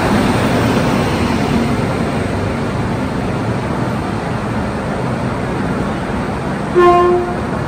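A train rumbles continuously at a busy railway station platform, and a short, loud horn toot sounds near the end.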